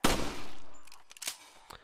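One loud gunshot in the Resident Evil 4 Wii Edition video game, a sharp blast fading over about a second, followed by a few fainter clicks and thumps.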